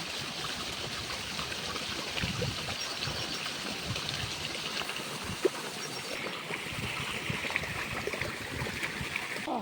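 A steady stream of irrigation water rushes and gurgles continuously through a farm field, an even, moderately loud flow with no voices.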